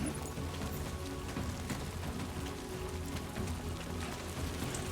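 Steady rain falls in the video game Death Stranding 2 On The Beach, a dense, constant patter on surfaces with no pauses and no talking.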